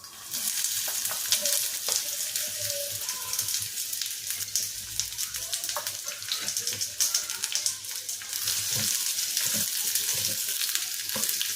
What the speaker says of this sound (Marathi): तर आधी सर्वात आधी आपण कांदा फ्राय करून घेऊया.